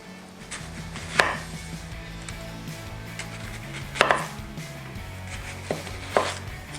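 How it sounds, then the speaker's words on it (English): A knife slices through an onion on a cutting board, making four or five crisp chops spaced a second or two apart, close and clear with no talking. "So we just want to cut it up into nice size onion rings."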